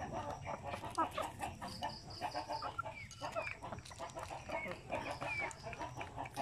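A flock of farm chickens clucks continuously nearby, with several overlapping calls and an occasional louder squawk amid the busy barnyard chatter.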